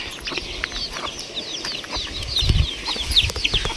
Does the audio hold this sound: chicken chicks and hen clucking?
yes